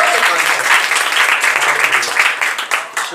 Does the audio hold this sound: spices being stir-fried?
no